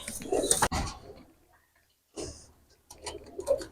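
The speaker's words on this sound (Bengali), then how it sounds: "এক পেয়ার রানিং কবুতর দেখাচ্ছি, মিয়ানাজি সালারা ব্লাড লাইনের কবুতর, রানিং কবুতর।" Miyanaji Salara bloodline running pigeons produce brief close fluttering and soft coos, a few short bursts separated by near-silent gaps.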